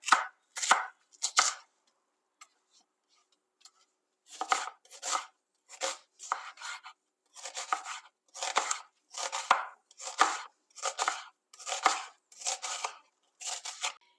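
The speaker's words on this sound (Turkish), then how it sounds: "Bunları da jülyen doğruyorum." A knife julienne-chops red onions on a board in close, crisp bursts of rapid taps, with one short run, a quiet pause, then a steady series of quick chopping strokes.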